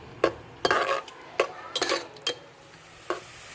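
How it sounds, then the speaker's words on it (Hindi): Chopped onion frying in a pan of oil as it browns, with sharp metal spoon scrapes and clanks at irregular intervals over a soft, steady sizzle. "ये हाफ प्याली से थोड़ा सा कम ऑयल है, जिसमें हमने एक प्याज जो था वो काट के हमने डाल दिया। अब हम इसे थोड़ा सा ब्राउन करेंगे"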